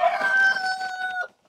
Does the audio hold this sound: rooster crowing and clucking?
yes